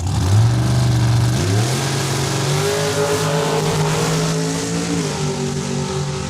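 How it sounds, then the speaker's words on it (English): A red Mercury Cyclone convertible pulls away at a drag strip, its loud nearby engine rising in pitch through one gear, dropping as it shifts, then climbing steadily again as it leaves. "there's that red Mercury Cyclone convertible leaving the parking lot"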